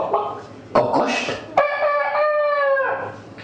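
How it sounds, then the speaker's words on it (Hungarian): A rooster crows in one long, clear call, preceded by brief clucking and scratchy farmyard noises, heard close and loud within a playful morning-market scene. "kakast,"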